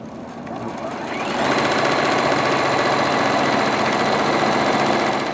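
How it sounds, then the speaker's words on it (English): A sewing machine running a quarter-inch seam along the edge of a pillowcase starts up, then settles into a loud, fast, steady mechanical whir close by for several seconds. "I'm going to go along this L-shaped edge and sew my 1/4 inch seam allowance"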